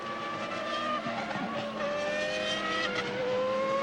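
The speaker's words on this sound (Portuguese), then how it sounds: "aí fala bem alto o motor Renault" A Renault Formula 1 engine at the 1995 Japanese Grand Prix roars at high pitch with long rising and falling whines, loud and continuous, with a brief tire squeal partway through.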